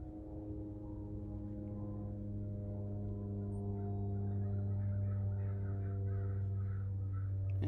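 Crows caw in a short series of rough calls through the second half, moderately distant and laid over a steady, droning low hum that runs the whole time.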